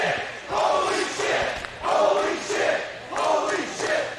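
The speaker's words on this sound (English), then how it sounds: "Crowd is chanting holy shit" Crowd at an IWA Mid-South King of the Deathmatches wrestling show in 2006 chants in rhythm after a brutal spot, about five repeated swells of voices at moderate, slightly distant level.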